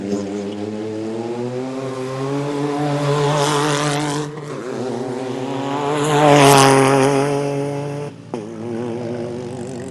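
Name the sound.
rally car 308 starting off the line, two-stroke-like engine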